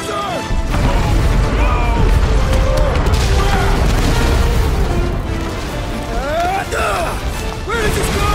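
Explosions in the video game Guardians of the Galaxy, a dense, loud, sustained roar of booms, crashes and debris, with characters shouting over the blasts.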